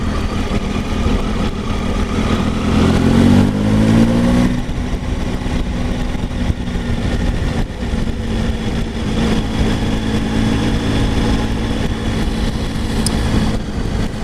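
A 2019 Triumph Tiger 800 XR motorcycle engine turning at a low 1800 rpm in fifth gear, a steady mid-pitched drone with wind rush throughout, loud and unbroken with no talking.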